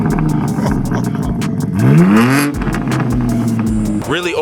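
A BMW G80 M3 with resonator and secondary cat delete revs its engine, rising in a sharp swell then settling to a throaty idle before another blip, close and loud with voices talking over it.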